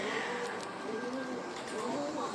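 Pigeons cooing softly inside a loft on a cold winter day, a steady low murmur of overlapping coos from several birds close by, with no talk over it.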